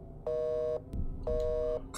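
Two identical electronic phone rings, each about half a second, sound with a pause between them in the horror video game The Suffering, with a faint thud in the gap.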